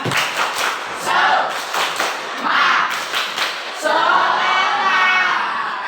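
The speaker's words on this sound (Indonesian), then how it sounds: "Tepuk semangat." Spirited rhythmic group clapping cheer at a school teacher-training session closing, in patterned bursts of claps, with voices chanting along, lively and close throughout.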